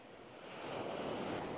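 Pacific Ocean surf washes in at a cove at sunset, a broad rushing hiss of water rising steadily in loudness as the wave arrives, with some wind buffeting and no talk.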